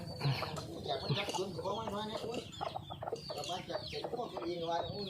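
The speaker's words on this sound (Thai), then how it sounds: "ตัวนี้ไก่ใหม่นะครับ จับมาจากไก่อุตรดิตนะครับ" A fighting rooster on a farm clucks and calls amid a busy, layered mix of fowl sounds, with someone speaking over much of it.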